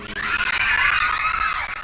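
A woman in the audience at an Indonesian Islamic sermon shouts a loud, sustained, high-pitched cry lasting nearly two seconds, close and harsh, with no other talk.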